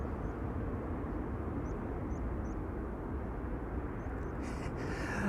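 An airliner bound for Lima taxis on the ground at Amsterdam Schiphol Airport, a continuous distant engine rumble and whine that holds steady outdoors.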